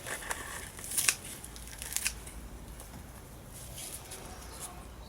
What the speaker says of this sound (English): So I'm just snipping its tops off.